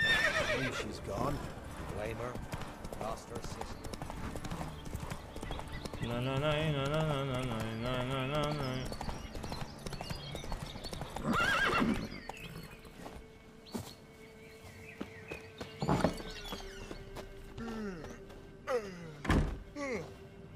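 Roach, Geralt's horse in The Witcher 3, gives a loud wavering whinny amid clopping hoofbeats and thuds, with game voices talking over much of it.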